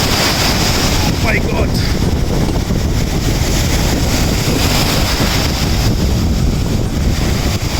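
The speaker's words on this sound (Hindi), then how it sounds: "बहुत तेज लहरें हैं," Powerful surf churns on a Bujumbura beach in a sustained, loud wash of breaking water, with wind buffeting the microphone and a man briefly exclaiming early on.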